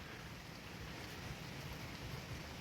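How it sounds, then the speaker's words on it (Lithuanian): Steady rain and wind roar evenly at night, a dense hiss with no breaks, fairly quiet and continuous throughout, on a motorcycle trip. "Girdite vėją ir lietų."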